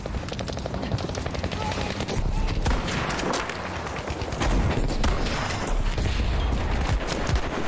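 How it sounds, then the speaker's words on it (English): Rapid bursts of automatic gunfire and sharp blasts fill a Battlefield 5 online match, loud and dense throughout with overlapping shots and explosions, no talk over it. "Survived the blasting, survived the explosion,"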